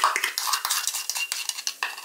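A spoon stirs vinegar and baking soda into red velvet cake batter in a bowl, giving quick, close clinks and scrapes in a brisk, irregular rhythm, fairly quiet, with no voices.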